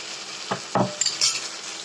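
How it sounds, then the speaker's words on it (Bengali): Potatoes tossed into chicken curry frying in a pot and stirred, a few short scraping clatters of a spoon over a steady sizzle, no talk. "দেখুন আমি দশ থেকে পনেরো মিনিট মতো মাংসটা কষিয়ে নিয়েছি এবারে আলুগুলো দিয়ে দিলাম"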